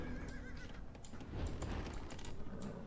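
Horses whinny and neigh amid light clip-clopping hooves in a real-time strategy game with trebuchets, a busy mix of game-like sound effects at a low, steady level.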